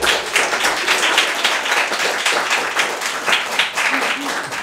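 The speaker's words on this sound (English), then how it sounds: "Let's give another applause to Christine." Applause from a live audience at a community storytelling event, a dense steady wash of many hands clapping for several seconds with a host's voice briefly over it.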